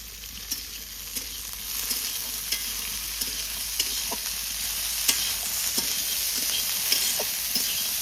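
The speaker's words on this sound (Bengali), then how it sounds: "সবজিগুলো সুন্দর ফ্রাই হয়ে গেছে" Beans, capsicum and carrot stir-fry in a pan for fried rice, giving a constant bright sizzle with light scrapes and taps from the spatula at intervals, close and fairly quiet.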